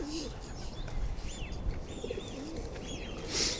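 Pigeons cooing softly in repeated low calls over a faint outdoor background, with a few higher chirps from other birds mixed in.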